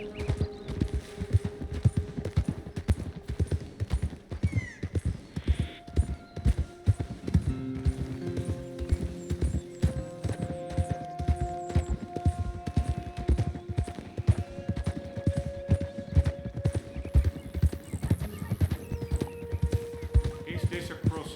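Horse hooves clip-clopping in a steady rhythm in Red Dead Redemption 2, close and continuous, with a faint hum and occasional tonal game sounds, while someone talks over the riding.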